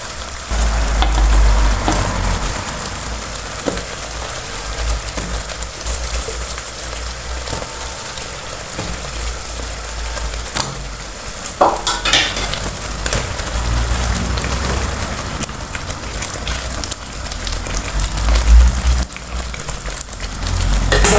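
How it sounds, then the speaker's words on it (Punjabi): Paneer koftas dropped into simmering curry gravy, a steady close sizzle and bubbling with a few soft plops and stirs, no voices. "ਹੁਣ ਜੇ ਰਿੱਝਣ ਲੱਗੇ ਹੁਣ ਆਪਾਂ ਪਾਵਾਂਗੇ ਕੋਫਤੇ ਇਹਦੇ ਵਿੱਚ"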